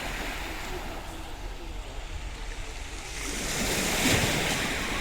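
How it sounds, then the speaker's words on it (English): Sea waves at Giardini Naxos, Sicily, wash in with a constant rushing hiss and low wind noise, swelling louder near the end as a wave surges closer. "to hear the sound of the sea"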